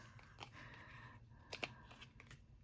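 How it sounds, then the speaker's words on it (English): Scissors snip away excess card stock in a few quiet, close cuts, with sharp clicks clustered midway and near the end, no voice present. "just trim the excess from the back. Just use whatever scissors you have."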